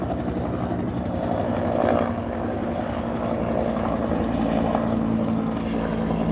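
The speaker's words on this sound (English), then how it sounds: "There goes the bird, friends. That's the Huey helicopter." A Huey helicopter drones steadily overhead, its low rotor thump and engine roar filling the whole stretch without letup.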